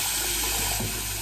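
Hot water runs steadily from a tap at a sink, a loud, close, continuous rush of water.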